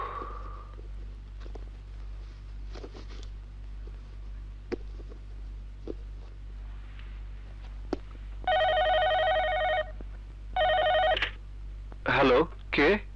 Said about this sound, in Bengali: এত রাতে কে ফোন করলো?